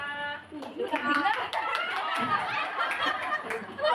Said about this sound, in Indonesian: 369 tepuk tangan